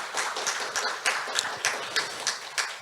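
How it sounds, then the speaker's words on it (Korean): Audience clapping in thanks at an ESG forum opening ceremony, a modest round of fairly rhythmic hand claps from a small group, somewhat distant and steady for a few seconds. "감사의 박수를 쳐주시면 좋겠습니다."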